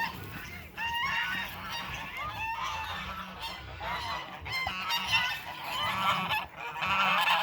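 Saddleback geese on a farm honk loudly and continuously, several birds calling over one another in overlapping nasal blasts, close by and with no pause.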